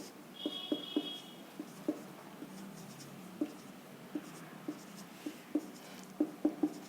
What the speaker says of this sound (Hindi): यहाँ पे मैं लिख लेता हूँ हैश